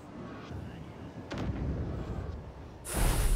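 Ship cannons fire during a naval battle in the game Abandon Ship, heavy booms over a rumbling background with a sharp blast near the start and a louder one at the end.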